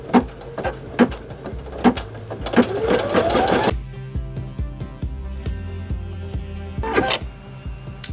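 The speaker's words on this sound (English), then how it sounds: "Next thing is we're gonna start to stitch out the placement for our brains on the top of our cupcake." A home embroidery machine stitches out a placement outline for a cupcake design, its needle thumping in a steady, fast mechanical rhythm with a few louder knocks and a brief whirring slide, close up with no talking.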